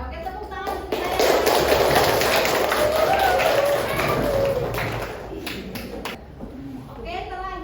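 Classroom applause from students, a burst of many hands clapping that rises quickly, holds steady for several seconds, then tapers, with speech heard over it.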